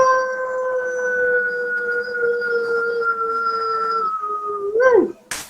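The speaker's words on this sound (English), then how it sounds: "That's a big howl for Amy Rice Pickett" A wolf gives one long, loud, sustained howl at close range, holding a steady pitch before breaking off with a short rising yelp at the end.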